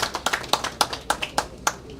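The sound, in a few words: audience clapping for Raul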